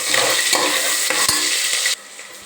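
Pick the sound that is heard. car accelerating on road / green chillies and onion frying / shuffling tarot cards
green chillies and onion frying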